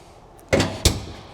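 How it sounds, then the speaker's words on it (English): The car door of a 1972 Chevrolet Nova opens with two sharp mechanical clunks about a third of a second apart, close and moderately loud over a faint background hum. "I'm gonna pop this door open, pull it outside real quick"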